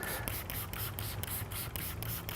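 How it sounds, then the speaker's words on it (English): Ceramic Pro cleaner hisses from a spray bottle onto a microfiber towel in a rapid series of short, close bursts. "the other is to spray it directly on the microfiber towel"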